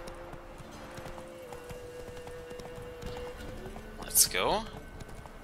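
Horse hooves clip-clopping at a steady pace in The Witcher 3, a faint rhythmic beat under game music and ambience, with a brief whinny near the end and someone talking over it.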